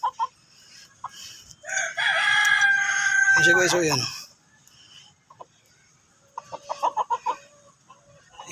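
An asil rooster crows loudly and close by in one long drawn-out call, with scattered clucks before and after, while someone speaks briefly in the background.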